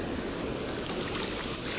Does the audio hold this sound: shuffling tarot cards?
no